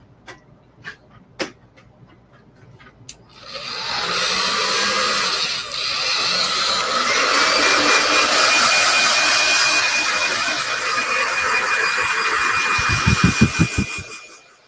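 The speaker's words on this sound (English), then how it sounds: "let's grab our hair dryer" A few sharp ticks and clicks, then a hair dryer switches on and blows steadily with a loud, rushing whine for about ten seconds before cutting off, drying chalk paste on a wood round wreath.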